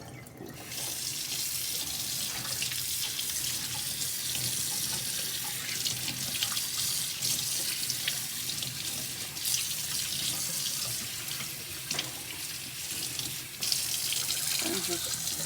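Cold tap water runs steadily from a faucet into a sink while fish is rinsed, a continuous splashing hiss from start to finish, close and fairly loud, with a few faint clinks and no talking.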